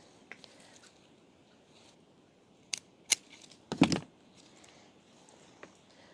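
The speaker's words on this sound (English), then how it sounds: "I'm going to trim this one just above these 2 new shoots." Pruning shears snip through a geranium stem just above two new shoots, giving a few sharp, close cuts amid quiet rustling of leaves, with a cluster of louder snips in the middle.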